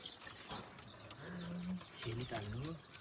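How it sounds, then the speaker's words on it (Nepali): Two doves coo in a few low, soft, hollow notes, faint and somewhat distant in a quiet rural outdoor setting, with light background noise and a brief thump. "यहाँ ढुकुर छ 2टा ढुकुर"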